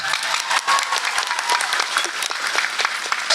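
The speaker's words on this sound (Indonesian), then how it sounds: "Ya kalau mau tepuk tangan yang kompak kenapa?" An audience at a Maulid Nabi Muhammad religious gathering bursts into loud, close applause, dense rapid clapping that stays strong for the whole stretch.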